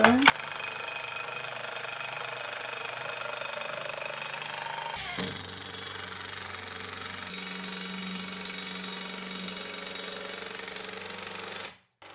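An impact wrench fitted with a 10 mm socket drives bolts while wardrobe shelves are built, a continuous rapid mechanical hammering whir lasting about twelve seconds, briefly shifting pitch midway before stopping abruptly.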